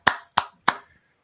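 Three sharp, evenly spaced hand claps, close and crisp, each ringing briefly before silence, with no talking.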